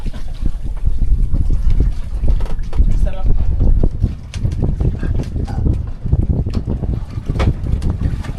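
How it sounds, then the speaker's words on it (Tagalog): Wind gusts across a boat on open water, a steady low rumble of microphone buffeting that stays loud throughout, with a few faint clicks and splashes mixed in. "Wow, masarap ng hangin."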